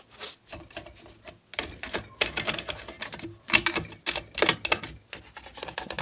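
A toothbrush scrubbing clean a noisy sewing machine, quick dry brushing and rasping strokes in uneven bursts with short pauses between, close and fairly quiet, no voices.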